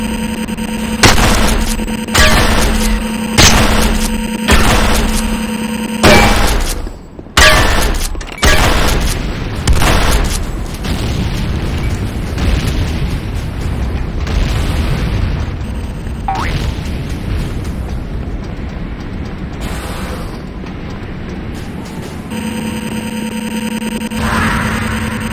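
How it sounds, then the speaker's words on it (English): A C4 charge detonates in the Renegade game, a heavy boom followed by a dense clatter of gunfire and battlefield noise that runs on loud through the rest of the scene. "C4 is set. Fire in the hole!"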